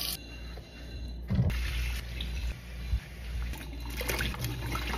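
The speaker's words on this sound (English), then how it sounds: "I'm gonna have to wash my fruit in a pot." Fruit being washed in a pot under running water: a steady close splashing and trickling from the tap with occasional thumps and clatter of the pot and fruit.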